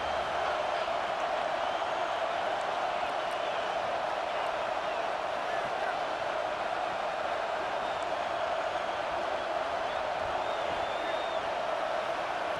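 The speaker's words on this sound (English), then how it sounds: "Listen to the crowd energy here in the early going." A dense, steady crowd roar fills a stadium in EA Sports College Football 26, a continuous wash of cheering and murmur at constant loudness for the whole stretch, with a faint whistle-like tone near the end.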